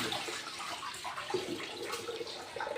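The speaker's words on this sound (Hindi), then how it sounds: "पानी मिक्स करते हैं।" Water pours and splashes steadily into a herbal chutney-like paste being mixed as a liver and typhoid home remedy, a continuous close liquid rush with small gurgles and no talking.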